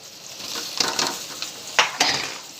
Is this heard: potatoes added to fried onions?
yes